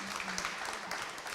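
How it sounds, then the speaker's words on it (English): Brief audience applause after a talk, a dense wash of many hands clapping at steady moderate level for a moment, with some murmuring in the room. "I think you deserve an applause now."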